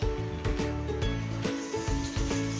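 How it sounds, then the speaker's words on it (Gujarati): Bread slices dipped in tomato batter fry in hot oil, a soft sizzle sitting under background music with tonal notes and repeated beats, fairly quiet and continuous. "અને આપણે તળી લઈશું."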